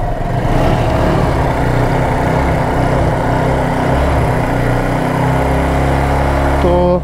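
A second-hand 135cc motorcycle, shown at a used bike showroom, runs with a steady, loud engine note throughout, holding a continuous idle and rev with a rough low rumble and no talk over it.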